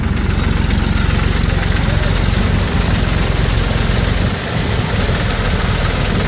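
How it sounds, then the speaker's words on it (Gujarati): A tractor engine, driven by a man on a farm, runs steadily up close with a loud, continuous low rumble and no break across the whole stretch. "તમે જોઈ શકો છો સોહેલભાઈને ટ્રેક્ટર ચલાવે છે"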